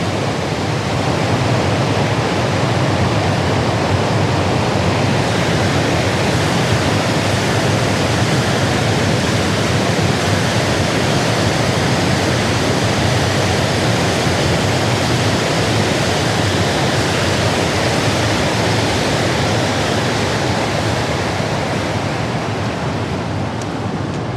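Water rushes steadily over a weir, a dense, unbroken roar of white noise that stays loud and close throughout with no pauses.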